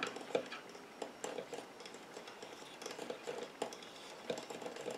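A homemade body lotion mixture stirred in a container, giving a steady run of light ticking clinks and scraping taps at close range, fairly quiet and rhythmic.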